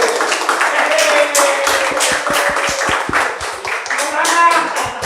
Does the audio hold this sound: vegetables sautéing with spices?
no